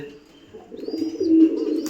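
Pet pigeons in a home loft give a short low coo that swells near the end, close and fairly clear, with a faint higher chirp above it and no talking.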